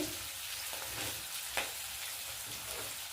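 Ginger frying in a pan for a vegetarian spinach and bean dish, a steady soft sizzle with faint crackles and one brief louder pop, close by and alone.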